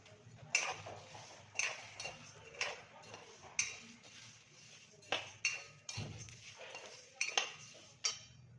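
Pearl millet with fresh leaves dry-roasting in a pan, with a spatula scraping and clinking against the metal in a steady rhythm, roughly once per second, close and fairly quiet.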